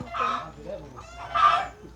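Chickens cluck around a Thai village house where a door is being painted, giving two bursts of clucking about a second apart, close and moderately loud, with faint talk in the background.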